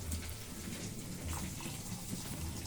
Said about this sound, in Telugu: కొంచెం నీళ్ళు వేయాలి.